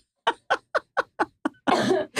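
A run of seven short, sharp coughs in quick succession, close up, then a longer harsh cough-like burst.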